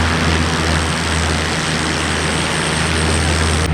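An Antonov An-28 propeller aircraft flies at an air show near Kyiv, giving a loud, steady engine and propeller drone that fills the whole stretch without a break.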